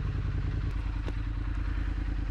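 A Triumph Speed Twin 900 motorcycle, 900 cc twin engine, runs steadily up close, a loud low rhythmic thrumming putter with faint mechanical clatter and a couple of brief clicks.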